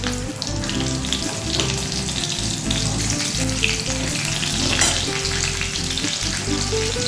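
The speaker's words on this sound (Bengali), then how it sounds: "4 চামচ মতো টমেটো বাটা দিয়ে দিলাম" Tomato paste and spices fry in a pan for a Bengali okra (lady finger) dish, a loud, steady sizzle throughout with occasional stirring scrapes and no voices.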